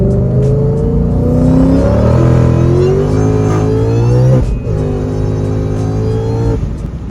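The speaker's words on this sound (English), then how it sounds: "Supercharger whine with the exhaust is the best noise you will ever hear in a vehicle" A supercharged V8 Ford Mustang accelerates hard with a rising supercharger whine over a deep exhaust roar, briefly dipping as it shifts gear, then pulling again.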